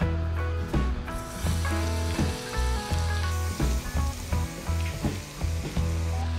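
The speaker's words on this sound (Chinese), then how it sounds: "等油烧了以后，把40克的蒜米倒进锅里" Minced garlic frying in hot cooking oil in a wok, with a loud, continuous sizzle and crackle mixed with rhythmic clanking of a utensil stirring against the pan.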